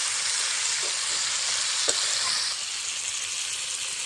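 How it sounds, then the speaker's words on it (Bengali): Hot water goes into a pan of cooking goat meat, setting off a loud, steady hissing sizzle with a brief knock partway through, close and continuous, no voices. "দিয়ে দিচ্ছি গরম জল"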